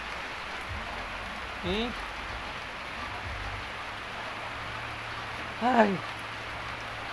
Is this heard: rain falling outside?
yes